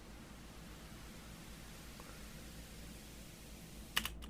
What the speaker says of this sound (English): So what we use is white noise.